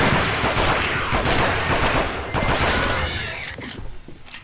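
Rapid video game weapon fire on an infinite-ammo gun, dense overlapping shots forming a loud continuous barrage that thins and tails off near the end, close and without speech.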